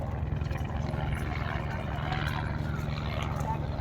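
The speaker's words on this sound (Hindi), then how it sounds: "हेलीकॉप्टर पे हेलीकॉप्टर हेलीकॉप्टर पे बहुत आ रहे हैं, बहुत।" Helicopters fly over Kedarnath, their rotors making a steady, rapid low chop that persists throughout under a faint wash of background noise.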